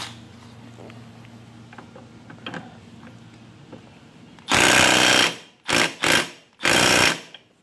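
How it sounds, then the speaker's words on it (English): Bursts of loud mechanical rattling come from a tool tightening the starter clutch bolt on a GY6 scooter engine, with four dense bursts near the end after quiet clicking and tinkering. "And we'll torque her down."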